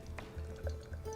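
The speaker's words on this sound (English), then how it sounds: "pour this fairly smoothly and at an angle" Guinness stout poured from a can into a glass, a soft liquid stream with a few faint drips and splashes, fairly quiet and close.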